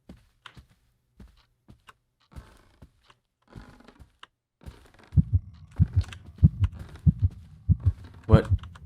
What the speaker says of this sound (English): I assume that the heartbeat means that it's manifesting or something.